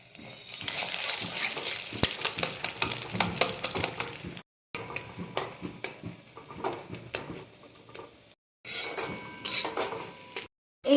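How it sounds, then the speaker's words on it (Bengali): An egg fried in a little oil pushed to one side of a pan during home lunch cooking, with continuous scraping and stirring clatter of a utensil against the pan over a soft sizzle, broken by brief pauses. "এবার আমি একটু সাইড করে অল্প তেল দিয়ে ডিমটা ফাটিয়ে নেব।"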